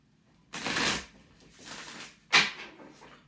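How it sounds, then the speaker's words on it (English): A tarot card deck is shuffled in three separate bursts of riffling and sliding card noise, each a quick papery rush close up with short pauses between them. "I'm going to shuffle 3 times"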